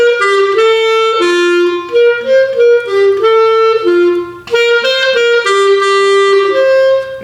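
Clarinet playing measures 29 to 31 of the folk tune Country Gardens, a loud, close solo line of connected notes that moves up and down with no break, running steadily with only a short gap partway through.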